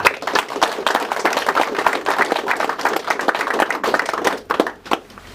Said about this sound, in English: I invite you to give them a round of applause to Greg, Farrant, and Tony Bernardo.